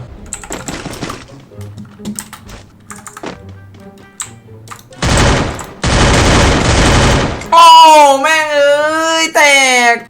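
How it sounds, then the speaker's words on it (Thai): Guns firing in the Free Fire mobile game: a few light taps, then two loud, dense bursts of rapid automatic fire, followed by someone talking excitedly. "มามาลองปืนหน่อยวะ"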